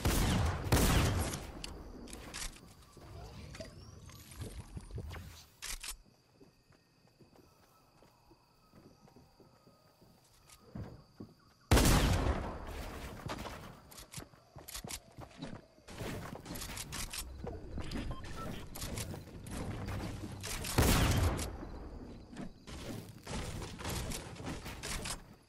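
Bursts of rapid gunfire in Fortnite Battle Royale, loud dense volleys at the start, a quieter lull in the middle, then heavy sustained shooting again through the final stretch, with no speech.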